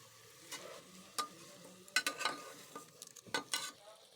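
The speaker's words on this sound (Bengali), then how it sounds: "তেলের ওপরেই সব কিছু দিয়ে দিচ্ছি। নুন হলুদ চিনিটা একটু নাড়াচাড়া করে নেব কিছুক্ষণ।" Vegetables sizzle in hot oil inside a pressure cooker, along with salt, turmeric and sugar, while a spoon stirs and scrapes them in irregular bursts, close and moderately loud, with no voices.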